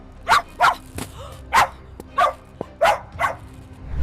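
A small dog barks at a delivery driver in a rapid series of sharp, loud, close barks, about eight yaps in a steady rhythm with short gaps, with no talk over them.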